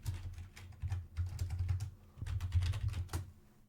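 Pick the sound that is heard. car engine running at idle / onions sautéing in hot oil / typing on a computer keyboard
typing on a computer keyboard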